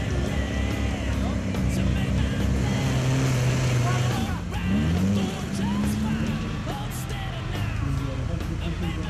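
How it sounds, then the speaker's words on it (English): A GQ Patrol 4WD with a V6 Commodore motor drives off-road, its engine droning loud and close with rising and falling revs while someone talks over it. "The car's got a V6 Commodore motor."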